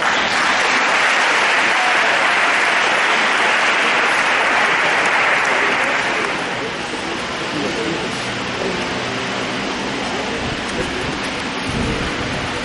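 A church congregation breaks into loud, sustained applause that roars steadily, then thins slightly into a continuing patter of clapping.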